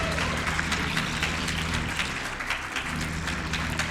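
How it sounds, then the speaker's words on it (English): Steady applause from the audience at Awesome Games Done Quick 2024, a dense wash of clapping that holds at an even level throughout with no voices over it. "can we get a round of applause for getting it on the second attempt?"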